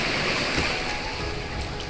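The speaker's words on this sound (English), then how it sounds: "I can hear water breaking up ahead" Water surges and churns in a loud, steady wash of waves breaking inside a sea cave, with no voices.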